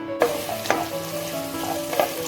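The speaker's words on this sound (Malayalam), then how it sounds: "ഇതിലേക്ക് നമ്മൾ കുറച്ച് ഓയിൽ ഒഴിച്ച് സവാള, ചെറിയ ഉള്ളി വഴറ്റണം." Onions and shallots sauté in oil in a kadai for a coconut chicken curry. A steady close sizzle runs throughout, broken by three sharp scraping stirs of the spoon against the pan.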